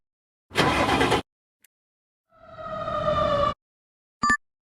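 A fire truck siren winds up in a rising wail lasting about a second, following a loud noisy engine-like burst earlier, with a short bright bell-like ding closing the sequence; no voices.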